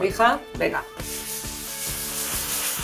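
Wooden bedroom furniture pieces in an attic are hand sanded: a steady scratchy rasp with rhythmic strokes about every half second, close and fairly loud, after a woman's brief speech at the start.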